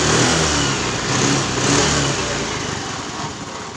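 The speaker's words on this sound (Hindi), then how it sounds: "तो फिर देखे स्टार हो गया, अब पिकअप लेते थोड़ा सा" Hero Maestro scooter engine after piston ring repair, running close and loud with a steady mid-pitched hum that rises and falls as the throttle is blipped.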